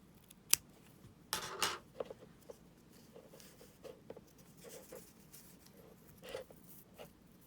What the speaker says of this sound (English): trim that up a little bit